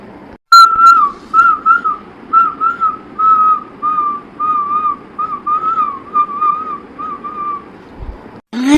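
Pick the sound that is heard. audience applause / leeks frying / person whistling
person whistling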